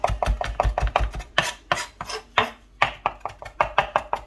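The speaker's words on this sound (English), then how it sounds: "we're really chopping this up almost to a mince at this point" A knife chops cilantro down to a fine mince, a fast run of sharp, close taps on a cutting board that slows into a few heavier strokes and then speeds up again, with no talking.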